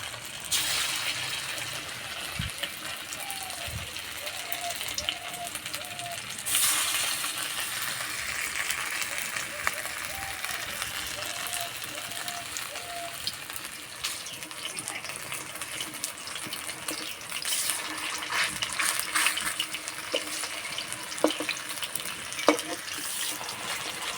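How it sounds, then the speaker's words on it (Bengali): Spicy chicken meat fritters fry slowly in oil with a long, steady, fizzing hiss, scattered with small clinks and pops that continue at an even level throughout. "বাকিগুলো একইভাবে ভেজে নেব।"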